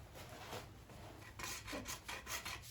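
Hacksaw cutting through PVC pipe by hand, with short rasping strokes in an uneven rhythm, close and fairly quiet, without voices.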